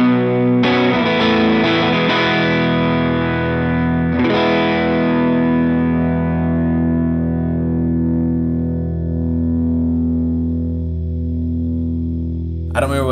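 Electric guitar played through a NUX Masamune booster placed before a Kompressor pedal on a subtle setting: a few loud, distorted strummed chords that ring out and slowly decay, with no talking.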